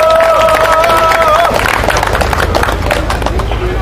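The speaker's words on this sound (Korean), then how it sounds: "큰 박수 부탁드립니다" A crowd claps and cheers loudly, with dense applause and a brief whistle-like tone at the start.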